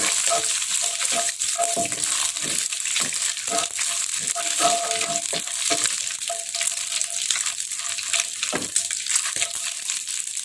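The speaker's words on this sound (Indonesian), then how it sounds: "sekarang saya panaskan minyak sayur, lalu kita tumis ikan teri terlebih dahulu" Anchovies stir-fry in hot vegetable oil, producing a loud, constant hissing sizzle close up, dotted with irregular clicks and scrapes from a stirring utensil.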